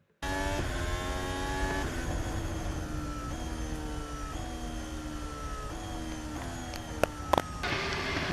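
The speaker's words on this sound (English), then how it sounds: "This is Charles Leclerc taking the checkered flag now, finishing in 10th." Charles Leclerc's Formula 1 car at Abu Dhabi on its cool-down lap after the checkered flag, engine whining steadily through stepped gear changes that rise and fall, loud and continuous, with a couple of sharp clicks near the end.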